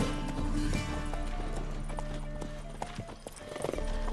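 Roach the horse from The Witcher 3 gallops along with steady clip-clop hoofbeats over a continuous game music and ambient bed, the pace holding throughout.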